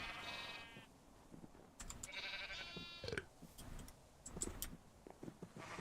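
Sheep in the Minecraft TerraFirmaGreg modpack bleat several times in quick succession, clear and fairly close, with short game clicks between the calls and no talking.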